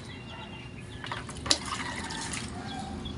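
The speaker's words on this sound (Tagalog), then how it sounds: "Ito ang ginagawa ko ngayon, magdilig." Water splashes and trickles onto plants, with a brief louder gush in the middle over a steady low background hum.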